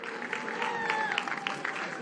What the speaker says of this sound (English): Ladies and gentlemen, a round of applause for Joey Spencer.